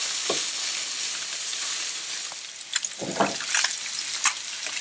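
Fish fillets fry in a pan with a steady, bright hiss of hot oil throughout. A few utensil clinks and a short clatter come near the end, heard close up.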